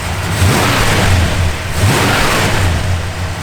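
A 1967 Plymouth Satellite's mildly cammed pump-gas engine revs loudly in two surging pulses, rising and falling, close by with no talking.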